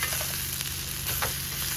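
Asafoetida tempering is stirred in a hot pan for bajji buttermilk, a continuous close sizzle of frying with scraping stir strokes, no voices.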